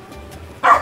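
A dog gives a single sharp bark close by at the end, after a moment of quiet room noise, during a visit to look at ornamental dogs.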